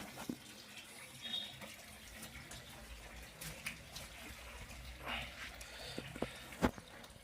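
Natural spring water trickles and splashes into a stone tank at a low dry-season flow, a faint continuous running-water sound with scattered small drips and knocks, no talking.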